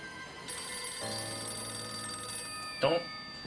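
A police box telephone from Doctor Who rings steadily and loudly in a continuous electronic trill, and a short burst of voice cuts in near the end.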